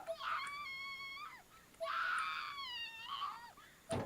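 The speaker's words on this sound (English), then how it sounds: "So they're just standing there and letting her scream this long?" A voice screams in long, wavering wails from the Corpse Party: Blood Drive video game, two sustained shrieks separated by a brief pause, loud and close.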